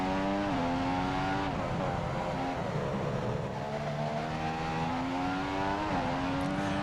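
A 2015 Mercedes-powered Formula 1 car in the video game F1 2015 screams at high revs, its pitch climbing through upshifts and dipping between them, steady and prominent with no speech.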